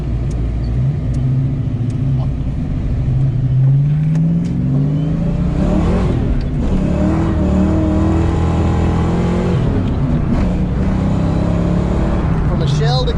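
A car built up from a bare shell, with a carbon headliner, driven sideways, its engine loud and close, rumbling and revving up and down under continuous talk.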